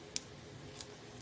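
Scissors snip the plastic casing of homemade chicken sausage in a few quiet, sharp clicks spaced apart, close by in a calm kitchen.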